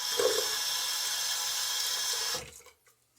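Water from a tap runs steadily into a shaving lather bowl for a couple of seconds, close and moderately quiet, then stops abruptly and leaves a short faint tail.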